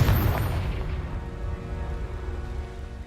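Confringo blasting spell explosion in the Hogwarts Legacy video game: a single loud, deep boom at the start that rolls off into a rumbling tail over a few seconds.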